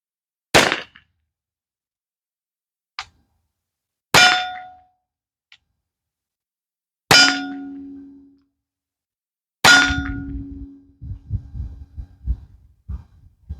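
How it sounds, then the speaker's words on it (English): Three sharp reports from a Mercury Rise TR50 launching homemade pepper balls, each a loud isolated crack with a short ringing tail, spaced a few seconds apart, followed by faint rustling and handling noise. "Three homemade pepper balls coming down range."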